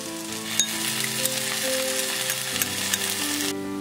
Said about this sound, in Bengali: এর মধ্যে আমি দিয়ে দেবো আদা রসুনের পেস্টটা।